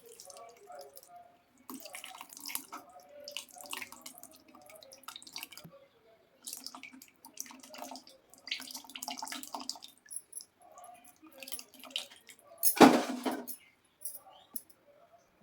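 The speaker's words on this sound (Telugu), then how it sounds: "ఇప్పుడైతే పులుసు పోసేస్తున్నామండి." Tamarind gravy for jalla fish being poured into a pot, heard as soft, intermittent wet splashes and drips close by, with one louder splash near the end.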